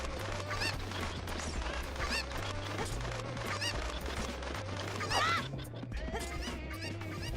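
Squawking cuccos, the chickens of the Zelda: Ocarina of Time randomizer game, clucking and honking repeatedly over a steady droning game-music bass line, busy and continuous throughout.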